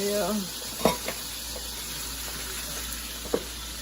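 Green onion sizzling in a little oil in a pan for a beef and vegetable stir fry, a constant close frying hiss with a couple of sharp utensil knocks; a brief voice is heard at the start.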